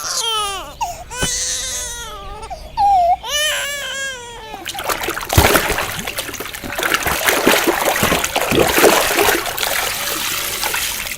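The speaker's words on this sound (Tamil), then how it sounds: "ஒரு வாளி தண்ணி மூடுறதுக்கு இவ்ளோ நேரம் ஆகுது" Water pours into a bucket in a dramatic scene, a loud splashing, trickling rush that takes over after a baby or child cries at length, continuing unevenly to the end.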